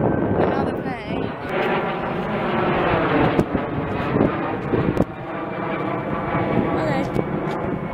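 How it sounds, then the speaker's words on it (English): An airplane flies overhead outdoors, its broad, steady roar filling the whole stretch while people talk over it. "Oh my god, plane!"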